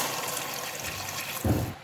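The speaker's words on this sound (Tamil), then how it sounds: "இப்போ நான் தண்ணி ஊற்றுறேன்." Water pours into a cooking pot of sautéed ingredients with ghee and salt for dalcha soru, a steady splashing stream that swells into a heavier gush near the end.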